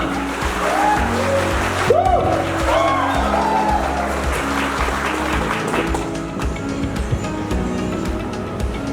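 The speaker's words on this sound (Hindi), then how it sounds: "और तालियां।" Audience clapping at a crypto mining company's 2022 annual summit, sustained and fairly loud under music, with a voice briefly heard early on.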